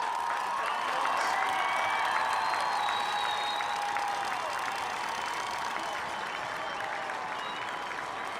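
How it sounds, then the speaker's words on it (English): A football game crowd in a stadium applauding at halftime, a dense, sustained wash of clapping with faint cheers, heard from a distance and easing slightly toward the end. "How about a big round of applause?"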